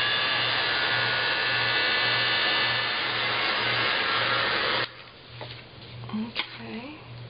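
Heat tool blowing hot air onto glimmer mist sprayed on metal in a craft shadowbox project: a loud, steady whooshing hum runs close for about five seconds, then cuts off, and a voice talks briefly afterward.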